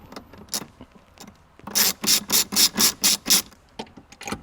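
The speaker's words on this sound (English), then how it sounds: "grab your 10mm socket and ratchet again. And go ahead and put back on the bolts that we just removed" A 10mm socket ratchet clicks in a steady run of about eight loud, even strokes while bolts go back in on a Toyota Prius, with a few lighter clicks before and after the run.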